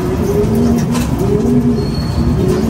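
Pigeons at the loft coo in steady repeated low phrases, fairly loud against a constant broadband outdoor hum, with no voices over them.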